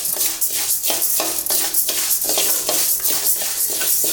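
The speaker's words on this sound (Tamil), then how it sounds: "அதில் ஒவ்வொரு பொருளாக போட்டு வறுத்து எடுத்துக்கலாம்." Millets dry roasting in a pan over a medium flame, with steady stirring scrapes and a dry rustling hiss repeating in an even rhythm, close and fairly loud with no talk.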